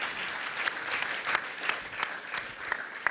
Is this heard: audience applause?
yes